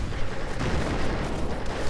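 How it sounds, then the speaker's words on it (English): Rapid, dense battlefield blasts from grenade explosions in a Company of Heroes match, mixed with gunfire into a steady loud rumble with no quiet gaps. "Grenades getting exchanged."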